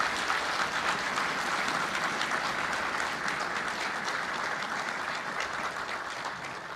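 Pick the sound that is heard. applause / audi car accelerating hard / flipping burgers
applause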